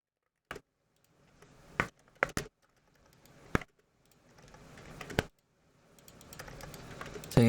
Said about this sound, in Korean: 키보드 소리가 너무 기계식 키보드 쓰니까 소리가 너무 커가지고